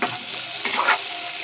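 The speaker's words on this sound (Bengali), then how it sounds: "এই যে পেঁয়াজটাকে এবার আলুর সঙ্গে নেড়ে দিলাম, একটু ভাজা ভাজা হোক" Onion and potatoes stirred and frying in a pan, a continuous sizzle with a few soft scraping stirs in the middle.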